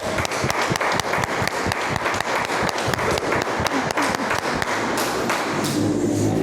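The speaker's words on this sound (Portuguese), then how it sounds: "Pode aplaudir o Senhor, pode aplaudir Ele." A church congregation applauds with sharp, loud, rhythmic claps and thuds in quick succession, easing into a more diffuse wash of clapping and crowd noise toward the end.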